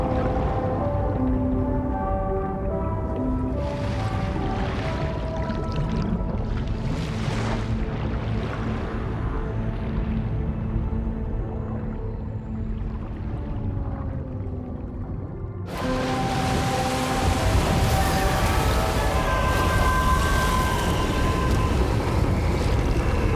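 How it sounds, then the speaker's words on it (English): The DHV Magellan, a ship in the Death Stranding 2 video game, surfacing: a deep sustained rumble with tonal whale-like groans and surging water, which swells into a brighter, louder roar partway through. "Discharging tar ballast tanks. DHV Magellan surfacing."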